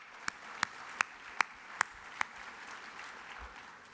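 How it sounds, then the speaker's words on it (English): A run of six sharp, single hand claps, evenly spaced and unhurried, rings out at an awards banquet, dying away to quiet room tone after the last one. "I'll applaud for that."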